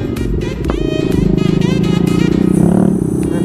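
A motorcycle engine revs and idles up close, loud and throbbing, with a rapid pulsing rumble that builds toward the end.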